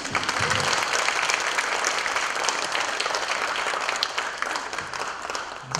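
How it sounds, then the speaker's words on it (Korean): Steady applause from an indoor audience welcoming a guest professor at an opera company event, dense clapping that holds evenly and tapers slightly at the end. "큰 박수로 환영해 주십시오."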